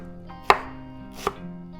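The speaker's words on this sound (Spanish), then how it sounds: "Así picamos el cilantro." A knife chopping cilantro on a board, with two distinct sharp chops heard close up, spaced under a second apart, over a quiet kitchen background with no talking.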